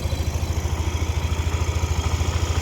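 A Yamaha Aerox/NMAX scooter engine runs at a steady idle close by, a rapid, even low-pitched putter with regular pulses and no talk.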